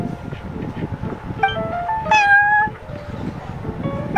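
The cat Prince meowing in Genshin Impact at the Cat's Tail, a few short mews and one longer drawn-out meow, clear and close over soft background music.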